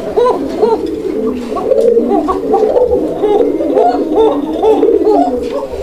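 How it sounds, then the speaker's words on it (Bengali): A Raj-golla pigeon pair coos in repeated rounded, bubbling calls, close and steady throughout with a faint low background murmur. "এখানে যে পেয়ারটা দেখতে পাচ্ছেন এই পেয়ারটাও কিন্তু অনেক চমৎকারভাবে ডাকে"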